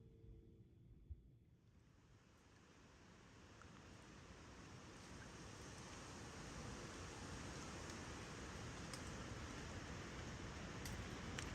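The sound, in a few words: hiss like TV white noise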